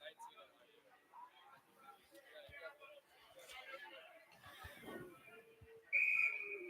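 At an ice hockey game, the referee's whistle gives one short, sharp blast near the end, cutting above steady arena crowd chatter.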